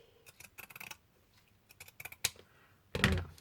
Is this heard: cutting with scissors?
yes